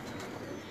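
A teddy pigeon on an old rooftop in Lahore gives a short, soft coo, faint and close, with no voices over it.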